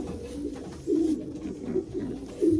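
Racing pigeons, including a calm blue cock bird, coo in soft, low, throaty bursts that repeat in an irregular rhythm at close range, with no talking.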